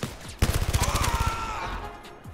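A fast burst of rapid gunfire in the Blood & Truth video game, loud and sustained for about a second, followed by ringing echoes and scattered debris sounds.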